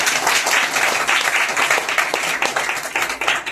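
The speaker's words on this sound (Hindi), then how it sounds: "एक जोरदार ताली बजाइए" Congregation at an Easter Sunday church service applauding, a dense, steady wash of many hands clapping throughout with no talk over it.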